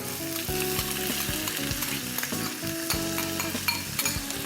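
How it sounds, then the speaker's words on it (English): Onions sautéing with cardamom pods in a pan for a saffron lamb breyani, a steady close sizzle with several stirring scrapes and clinks throughout, no voices. "Now in goes the onions."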